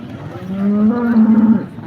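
A cow at a Modnimb cattle market gives one loud, close, drawn-out moo lasting about a second, sounding on its own without talk over it.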